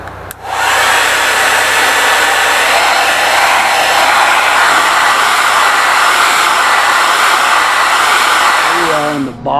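A 1,600-watt hair dryer runs on medium heat inside an RV, a loud, close, steady whooshing hum that holds unchanged for about nine seconds before cutting off.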